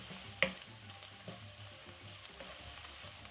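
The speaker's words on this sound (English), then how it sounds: "Give this a stir." Thyme and chili flakes stirred in a frying pan during vegetable basmati rice prep, a steady low sizzle with one sharp utensil knock near the start and soft scraping strokes throughout, fairly quiet and without talk.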